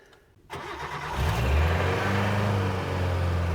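A ute's engine, run with a little choke, cranks after a quiet moment, catches quickly and settles into a loud, steady, rumbling idle close by.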